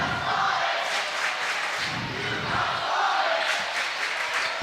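Loud crowd noise fills a high school basketball gym during a boys' game against Fairfield, with steady cheering and shouting swelling in waves for several seconds.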